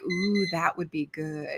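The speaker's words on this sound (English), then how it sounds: "That was the alarm for our sprint time." A bright electronic alarm chime marks the end of a timed reading sprint: steady melodic tones that sound alongside a woman's brief spoken reaction, moderately loud and close.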